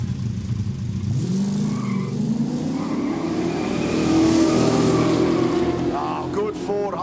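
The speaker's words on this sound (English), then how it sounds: "Oh, good Ford Holden drag race right here" A Ford and a Holden accelerate hard in a no-prep street drag race at Kooralbyn Valley, engines roaring and rising in pitch together as they pull away, loud and close.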